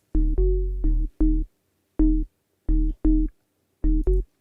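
Deep Serum synth bass in a dirty UK house style plays a rhythmic run of short notes, each starting bright and quickly mellowing as a filter closes, separated by brief silences.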